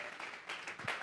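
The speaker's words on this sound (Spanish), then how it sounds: "Vamos a regalarle ofrenda de palmas al Dios de la gloria." Church congregation clapping, a brief burst of scattered applause, faint and somewhat distant, with a voice faintly mixed in.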